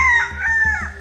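A white rooster crows close by, one loud drawn-out call with a rising and falling tone lasting about a second.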